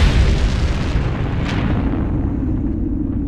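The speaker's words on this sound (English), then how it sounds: "a massive dying star finally collapses, igniting a supernova explosion." A deep, booming supernova explosion effect hits hard at the start, then fades into a long, rumbling roar that slowly dies away.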